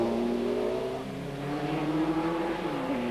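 TVR Tuscan race car with an AJP engine at high revs during a 1995 Tuscan Challenge race, a sustained high-pitched engine scream with shifting pitch as it holds and changes revs, steady and fairly close.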